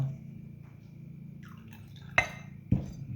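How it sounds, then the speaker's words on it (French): A little water is poured onto potting soil in a seed pot, giving two short, distinct splashes near the end over a low steady hum, close and fairly quiet, with no talking. "Donc, je mets un tout petit peu d'eau."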